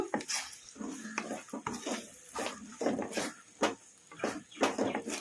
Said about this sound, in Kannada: ಈ ಥರ ಕಲಿಸ್ಕೊಂತಾನೆ ಫ್ರೈ ಮಾಡ್ಕೋಬೇಕು